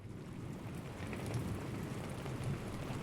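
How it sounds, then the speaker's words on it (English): Rain and thunderstorm sound effect: a continuous hiss of heavy rain over a deep, rolling low rumble of thunder that swells slightly midway, alone with no voices. "It was a dark and stormy night."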